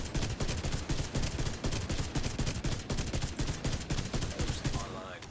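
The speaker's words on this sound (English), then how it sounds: "Yo, the explosions are crazy." Dense gunfire and explosions in The Division 2 video game, continuous rapid shots and blasts in a steady barrage, loud and close for the whole stretch.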